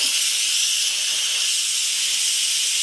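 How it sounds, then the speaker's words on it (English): Steady, loud steam hiss blasting from the pressure vent of an Instant Pot cooking apple cider, a continuous broadband rush that holds level from start to finish with no other sounds. "is to vent the pressure so that it comes back to normal, because you can't open the lid with the high pressure"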